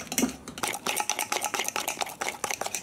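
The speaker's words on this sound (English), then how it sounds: "stirring." A spoon stirs salted caramel chocolate chip cookie mixture in a bowl, making a steady run of close, quick scraping clicks and taps throughout with no talking.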